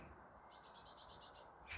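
Faint birds chirp outdoors in a quick run of about eight evenly spaced high tweets, distant and thin over a quiet background.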